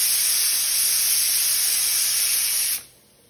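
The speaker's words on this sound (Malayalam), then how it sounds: "നല്ല മസാല ചോറ് കുക്കറിൽ കിടന്ന് തിളച്ചോണ്ടിരിക്കണ കേട്ടാ." A pressure cooker of masala rice hisses loudly and steadily, with a high whistle riding on the jet of steam. It cuts off abruptly near the end, leaving quieter background noise.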